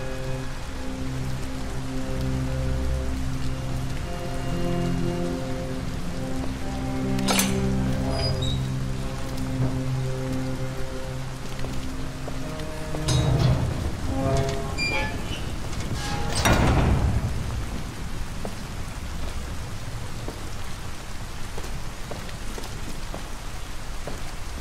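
Steady rain falls in the video game Detroit: Become Human, a constant hiss of drops on surfaces, with a low musical drone beneath and a few brighter swells and rumbles passing through.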